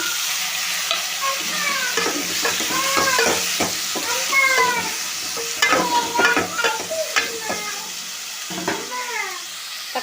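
Onions and tomatoes frying and being stirred in a pan for fish curry make a constant loud sizzle with repeated scraping, while frequent rising mewing calls, like a cat, sound over it.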